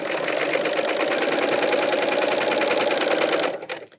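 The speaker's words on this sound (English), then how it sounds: "and then finish with the very last side." A Bernina L890 serger overlocks fabric with a steady, loud, rapid stitching whir that runs evenly for about three and a half seconds, then winds down and stops near the end.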